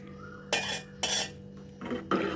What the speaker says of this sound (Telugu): ఈ సగ్గుబియ్యం మిశ్రమం వేసిన తర్వాత బియ్యం మిశ్రమం కూడా వేస్తూ కలుపుకోవాలి